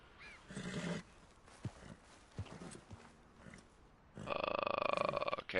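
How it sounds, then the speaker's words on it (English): A horse in Red Dead Redemption 2 whinnies briefly, followed by a few scattered thumps, then a long, loud, shrill neigh near the end. "I just killed the horse."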